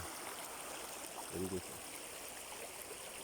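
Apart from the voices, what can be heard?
stream water flowing during a river crossing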